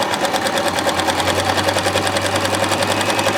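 A Baby Lock Zest sewing machine runs steadily while top stitching along a fabric fold with the needle in left position, giving a fast, even mechanical whir and rapid needle clatter at close range, with no talking.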